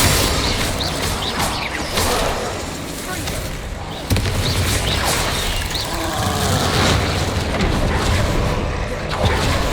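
Explosive spells cast in Hogwarts Legacy: a dense, continuous wash of loud booms, rumbles and magical bursts that overlap without pause, with voices mixed into the din.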